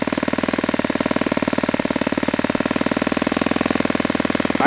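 A Saito FA-91S four-stroke model airplane engine runs loud and close at a steady fast buzz, its speed creeping up slightly and then settling back, with no voices.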